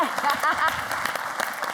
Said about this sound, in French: Allez, on t'applaudit